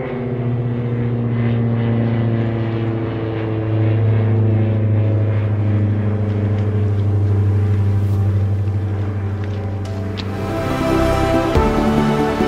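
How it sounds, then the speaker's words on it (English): A propeller plane's engine runs outdoors with a loud, steady droning hum that holds for about ten seconds, then shifts in pitch and roughens near the end. "Hear that plane being fired up"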